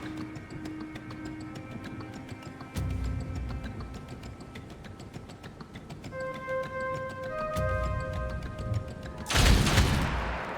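Gunshots in the turn-based game Othercide, a few sharp reports punctuating a tonal musical backdrop, the loudest burst arriving near the end.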